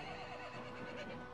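A horse in Mount & Blade: Warband neighs and whinnies in a short, dense burst, fairly faint under game ambience, with a hint of hoof clopping.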